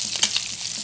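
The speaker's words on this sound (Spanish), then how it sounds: "Miren, acá ya se está friendo." Pork ribs seasoned with salt and chicken bouillon fry in a pan, giving a steady close sizzle with a few brief louder crackles, no talking.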